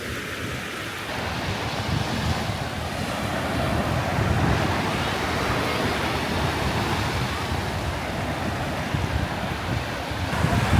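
Sea waves washing onto an evening beach at Hua Hin, Thailand, a continuous rolling roar with gusty wind buffeting the microphone throughout.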